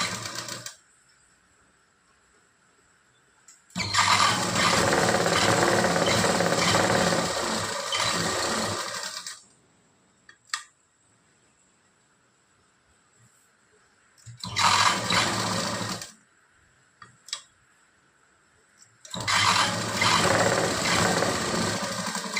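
A sewing machine stitches blouse fabric in three loud, steady runs of whirring motor and needle, each lasting a few seconds, separated by quiet pauses with brief clicks.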